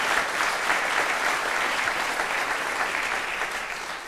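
Studio audience applauding after a song on a Danish music talk show, steady dense clapping that fills the whole stretch without a break and fades slightly at the end.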